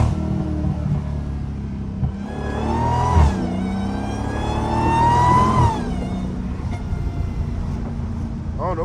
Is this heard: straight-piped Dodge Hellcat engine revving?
yes